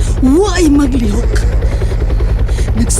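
A helicopter hovers steadily with a loud, constant rotor thrum, while a voice speaks briefly over it near the start.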